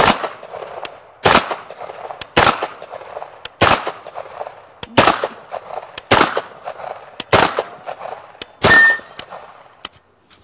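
Suppressed shotgun fitted with a Trijicon MRO red dot fires in rapid succession, about seven to eight sharp, loud reports spread across ten seconds, each with a short ringing tail and an outdoor reverberant decay.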